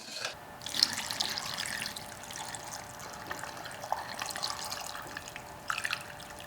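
Salt is stirred into water in a jar for lacto-fermented pickles, giving a steady close sloshing and trickling of liquid with small clinks and drips, no one speaking.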